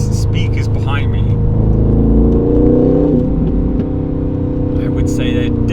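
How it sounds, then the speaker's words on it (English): Steady low engine drone with a rising rev, heard from inside the cabin of a 2025 Aston Martin Vantage, with engine noise piped through the car speakers, continuous and fairly loud with no talking. "there's so much engine noise being put in through the speakers"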